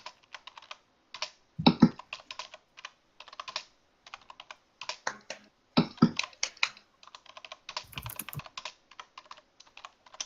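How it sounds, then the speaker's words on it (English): Fingers type on a computer keyboard in quick bursts of close, crisp key clicks, with pauses between runs and a couple of heavier thumps mixed in. "Typing intensifies."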